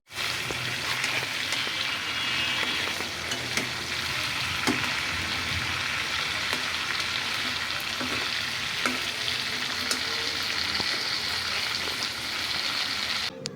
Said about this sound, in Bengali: এটি আমি উল্টে পাল্টে ভালো করে কিছুক্ষণ ভেজে নিব